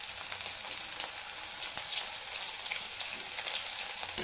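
Crushed garlic roasts in hot oil with cumin and asafoetida for a quick capsicum stir-fry, a continuous close sizzle with faint stirring scrapes and a few sharper pops.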